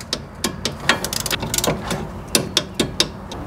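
A torque wrench tightens brake caliper bolts on a 2003–2011 Honda Element rear brake: loud, close metallic ratcheting clicks in uneven bursts, with a few sharper clacks and no talking.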